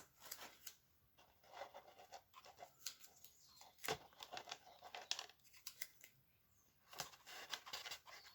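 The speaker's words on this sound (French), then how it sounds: "Je vais même lui mettre un petit bout de scotch." A small piece of adhesive tape is pulled and torn indoors during trap-making, giving quiet crinkling and ripping sounds in short irregular bursts.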